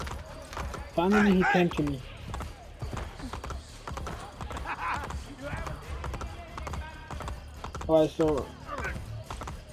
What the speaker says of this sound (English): Should probably go on horse.